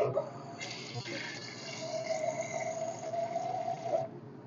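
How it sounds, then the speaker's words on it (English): Water is poured into a pot of Azerbaijani porridge (aashe kalam) as it cooks, a steady, close splashing stream that runs for several seconds with a faint ringing tone beneath it. "Now I'm going to put a small bit more water in this because"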